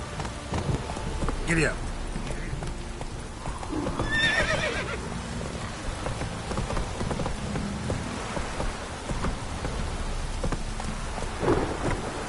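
Roach the horse in Witcher 3 gallops through rain with thunder, hooves clip-clopping steadily as the horse neighs loudly, under a spoken command.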